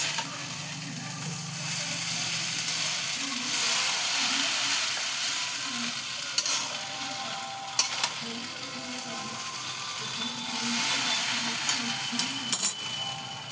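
Prawn and egg chow being stirred and fried in a pan, a steady sizzle with repeated scraping and clinking of the utensil against the pan, close and continuous with no talking.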